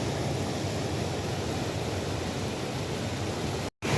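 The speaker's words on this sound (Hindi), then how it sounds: "मेरी आवाज़ बहुत कम आ रही होगी पानी की आवाज़ से" Loud rushing water at a farm dam, a dense, steady roar of falling water filling the whole scene without a break, cut by a brief dropout near the end.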